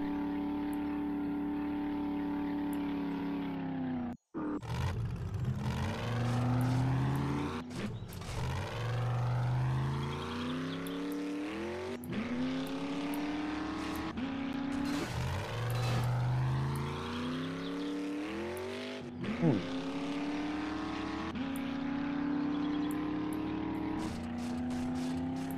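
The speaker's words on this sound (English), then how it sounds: "Car sounds in this game are so weird" A car engine in the video game 7 Days to Die, with a droning motor that repeatedly revs up and drops through rising and falling pitch sweeps, heard alone at moderate loudness throughout.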